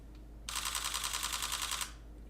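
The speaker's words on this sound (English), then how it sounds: "it took probably 13 pictures because it takes 11 frames per second" A Sony camera shutter fires a rapid burst of about a dozen frames at roughly 11 per second, a dense even clatter lasting over a second, close and fairly loud with no talk.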